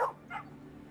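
A dog gives two short yips, close and fairly loud, in a Friskies pet food television advert on a French morning programme, followed by a quiet pause.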